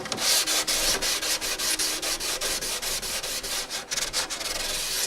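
Edges of carbon fiber Suzuki GSX-R 1000 track bodywork being sanded by hand, a close, rhythmic rasping of quick back-and-forth strokes at a brisk, even pace throughout.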